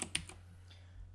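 A few quick, close keystrokes on a computer keyboard, sharp clicks bunched at the start and then fading into quiet room hum.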